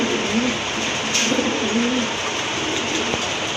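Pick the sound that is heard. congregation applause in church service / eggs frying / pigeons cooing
pigeons cooing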